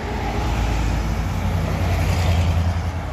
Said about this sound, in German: Und der nächste MAN Efficiency Hybridbus.